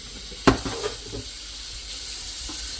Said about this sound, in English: you want to rinse the root ball as much as you can. Gently.